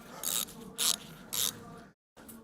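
A 3/8 ratchet tightens bolts on a 2JZ engine during teardown, in three quick bursts of close, bright clicking followed by a brief silence and a fourth short burst.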